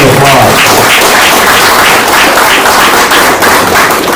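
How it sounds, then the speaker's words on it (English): Dense applause from an audience at a county fair queen program, steady and loud throughout with sharp clap-like crackle, no pause. "Give them a big round of applause."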